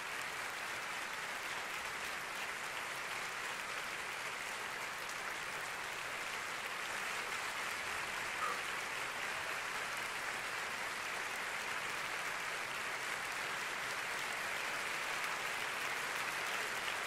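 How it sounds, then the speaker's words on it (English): Audience applause in a recorded performance, a long even wash of clapping that holds steady and fairly quiet without pause. "She's earned the applause."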